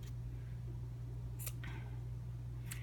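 Scissors snipping through yarn loops for a tassel: two brief, quiet cuts spaced over a second apart, heard alone over a steady low hum.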